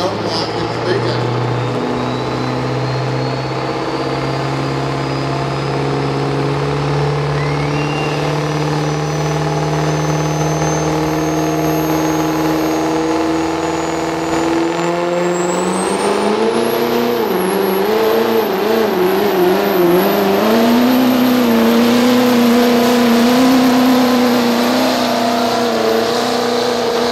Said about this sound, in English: This truck, you will also hear that torque converter lock up and unlock in the big end.